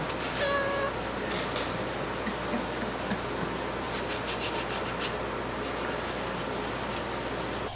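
A steady, continuous rubbing and scraping drone of sanding wood intarsia runs throughout, moderately loud and unbroken, with a faint tonal hum near the start.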